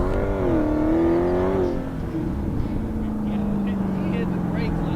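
A Dodge Challenger Hellcat floored at full throttle sends out a rising engine howl, which drops back to a lower steady drone, with people talking over it.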